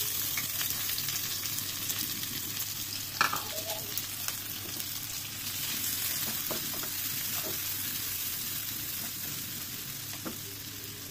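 Onion fries with beef in a pan, producing a steady, close sizzle with occasional pops and one brief louder clink partway through.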